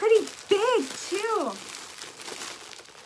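A bag holding mystery yarn crinkles and rustles as it is handled and opened, with lively vocal exclamations at the start and softer crinkling continuing afterward.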